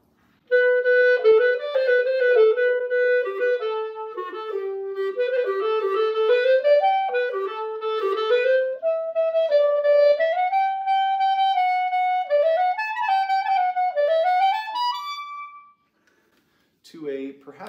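A solo clarinet is played with a centered tone in a clear, close melodic line of sustained and moving notes that rises and falls, then stops, followed by a brief sound at the very end.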